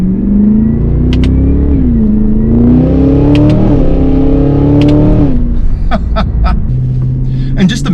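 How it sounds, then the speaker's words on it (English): A 2024 Cadillac Escalade V's engine and exhaust rumble loudly from inside the cabin while driving, with deep rising and falling revs and a shift-like dip, clicks of interior noise scattered throughout. "just imagine driving this thing around with like a full load of passengers in here with that exhaust sound"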